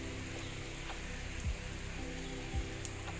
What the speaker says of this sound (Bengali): সকাল সকালই বৃষ্টি।